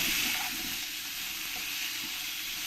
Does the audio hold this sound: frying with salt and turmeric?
yes